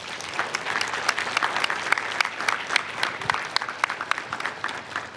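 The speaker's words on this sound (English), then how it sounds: "Let's give our candidates a round of applause." Sustained applause from a live audience at a candidate forum for the 68th House District, a dense wash of many hands clapping with scattered louder claps, steady and fairly close throughout.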